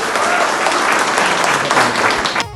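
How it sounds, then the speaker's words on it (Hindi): Loud, dense applause from a large crowd at a political gathering, sustained for a couple of seconds and then cut off abruptly. "जोरदार ताली हो जाए।"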